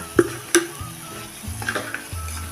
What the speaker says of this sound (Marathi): हे चांगलं आता तेल सुटेपर्यंत परतायचं आहे